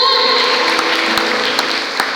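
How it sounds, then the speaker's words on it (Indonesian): Congregation at a Pentecostal Sunday morning service in a Pontianak church claps together, a loud, steady applause with a few sharper claps popping through and sustained tones lingering underneath. "Boleh beri tepuk tangan, saudara."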